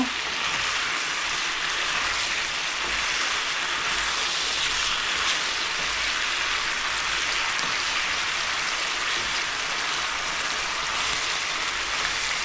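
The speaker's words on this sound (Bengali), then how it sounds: "এই যে চিকেনটাকে আমি এভাবে তুলে ভেজে নিচ্ছি তেলের মধ্যে একটু 10 মিনিট মতো" Chicken pieces frying in hot oil, a loud, close, steady hiss and crackle that runs unbroken throughout with no voices.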